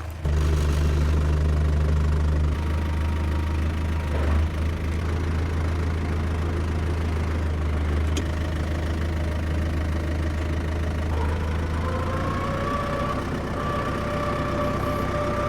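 A tractor engine idles and runs inside a workshop, a loud steady low rumble with knocking texture that holds throughout, its pitch shifting slightly near the end.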